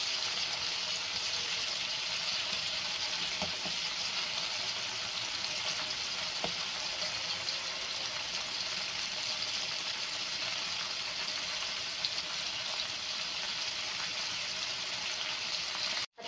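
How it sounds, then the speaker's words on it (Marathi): Chilli paneer sautéing in a pan over high flame, a steady bright sizzle of frying with faint stirring clicks throughout, close and continuous, no voices, ending in a sharp knock. "हाय फ्लेमवरती ते चांगलं परतून घ्यायचं आहे"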